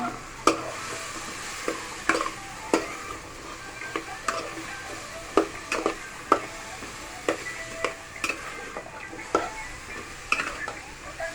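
Squash and mixed vegetables with turmeric and salt fry in a pan under a soft continuous sizzle, punctuated by regular sharp clacks of a spoon stirring and scraping roughly every half second to second.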